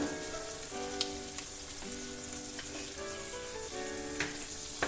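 Butter melting and sizzling in a pan for white sauce pasta, a steady close crackling hiss with occasional sharper pops, alone without voices.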